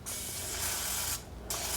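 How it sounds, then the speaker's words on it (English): Two hissing bursts of cooking spray onto a tablespoon, close and steady, the first long and the second starting after a brief gap. "I'm going to spray this tablespoon"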